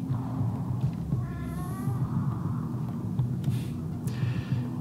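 Cat meowing amid a Rimworld game's ambient score: a couple of faint mews over a steady low musical drone, with soft clicks scattered through.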